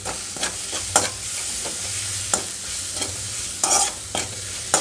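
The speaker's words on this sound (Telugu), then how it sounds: "ఇందులో ఇలా కొంచెం ముందు గోంగూర వరకు వేయించుకొని వెల్లుల్లిపాయలు కొంచెం ధనియాలు వేసుకుంటే సరిపోతుంది" Gongura leaves tossed in a pan with garlic and coriander seeds, sizzling steadily while a spoon scrapes and stirs in repeated clacks, close and fairly loud with no talking.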